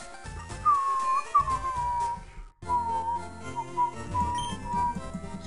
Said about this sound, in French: Excusez-moi, je siffle un petit peu fort peut-être.